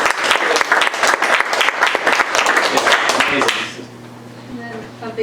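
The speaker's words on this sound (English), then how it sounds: "we should give her a round of applause" An audience at a board meeting breaks into loud, dense clapping for about three and a half seconds, then it stops abruptly, leaving quiet room hum.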